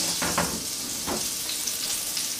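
Oil and butter sizzle steadily in a hot frying pan before hash brown potatoes go in, a close, continuous frying hiss with a few soft stirring scrapes.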